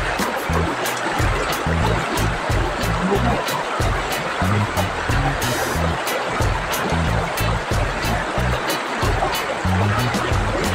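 Rushing river water in Maslog flows continuously and loudly, a dense steady wash of sound with faint murmurs beneath it.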